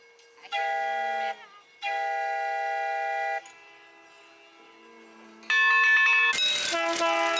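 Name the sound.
train whistle blowing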